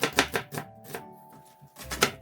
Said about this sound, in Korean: 양파 보통 크기 4개를 채 썰어줍니다.